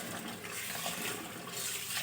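Rice being rinsed by hand in a bowl of water, swirled gently until the starch clears; steady close sloshing and trickling water runs throughout without talk.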